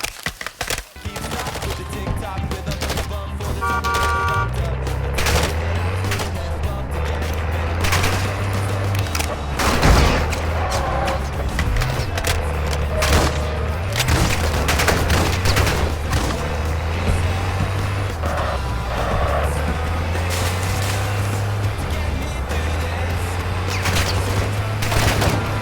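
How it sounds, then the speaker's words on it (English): Gunfire in Call of Duty Modern Warfare II's DMZ mode at Vondel, dense continuous bursts of rifle and automatic fire over a low rumbling game soundscape, loud and sustained. "I'm taking effective fire!"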